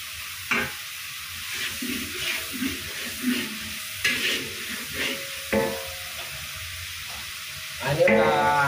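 Shallots frying in a pan, a soft sizzle interrupted by repeated spatula stirs and scrapes at irregular intervals, with a brief watery rush near the end.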